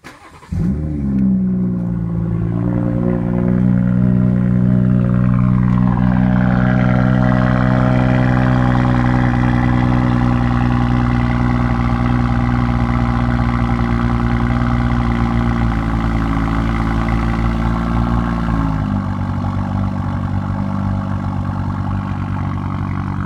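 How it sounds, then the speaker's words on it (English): A 2017 BMW 340i xDrive M Performance engine cranks and fires up, then settles into a loud, steady exhaust drone that holds for about twenty seconds, with a small drop in pitch near the end as the idle eases. "see if this iPhone camera can probably pick up the exhaust sound"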